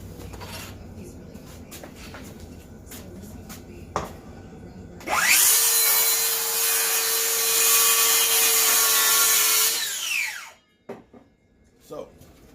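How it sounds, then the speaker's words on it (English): A circular saw rough cuts a wooden board for handcrafted sports racks, spinning up sharply, then roaring loud and steady through the cut for about five seconds before winding down, with quieter workshop noise and talk before and after. "the next thing I'll do is I'll take the circular saw and I'll rough cut these"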